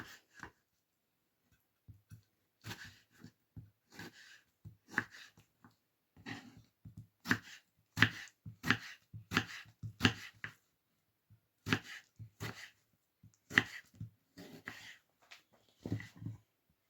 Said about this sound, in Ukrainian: Нарізати помідорки, в мене сливки. Дуже такими ось полукульцями.